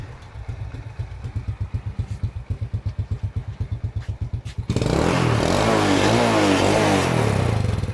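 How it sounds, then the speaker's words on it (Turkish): A car engine started by remote control: a rhythmic cranking churn for several seconds, then a sudden catch into a loud, steady running roar that holds to the end, close by with no speech. "Şimdi dilerseniz aracı kumandayla çalıştırayım. Evet şu an araç çalıştı."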